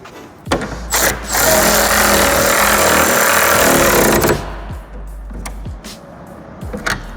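Bolts on a Voltex Type 12 swan neck wing being tightened on an ND Miata, a loud close burst of power-tool whirring lasting several seconds, then sharp clicks and knocks of hand tools.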